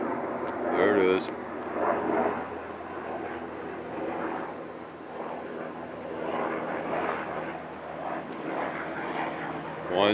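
A helicopter flies overhead in the evening, its engine drone rising and falling steadily at moderate distance while a person talks briefly early on.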